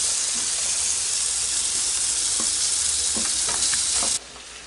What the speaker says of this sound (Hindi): तो अब मैं इसमें आलू डाल दूँगी